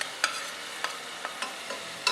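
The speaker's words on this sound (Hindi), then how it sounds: "हमने अदरक और लहसुन को 2 मिनट तक जो है इसमें फ्राई किया है।" Quiet sizzle of ginger garlic paste frying in a pan, punctuated by several light clicks and scrapes of a spoon stirring.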